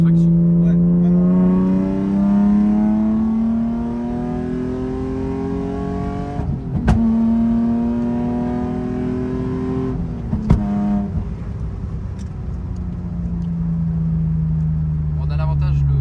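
A Nissan 350Z engine revs and accelerates up through the gears in a street, loud and close, with rising pitch sweeps broken by brief gear-shift bursts, then settling into a lower drone.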